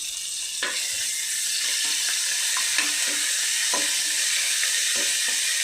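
Onions, chillies and ginger-garlic paste fry in hot oil, a steady close sizzle with scattered soft taps and scrapes from stirring, no voices.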